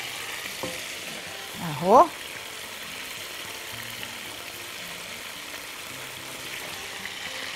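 Onion, garlic and mushrooms frying in a pan give a steady, soft sizzle throughout, with a brief scrape of stirring near the start and a short spoken word from the cook.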